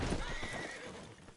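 A horse in a video game gives a short, close whinny over rapid clip-clop hooves, fading slightly as the brief burst ends.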